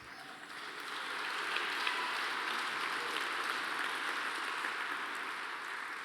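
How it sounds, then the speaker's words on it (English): An audience at an award dinner breaks into applause that swells within the first second, holds as a dense, even patter of many hands clapping, then eases slightly toward the end, with no talking over it. "If they keep clapping, can I go over my time?"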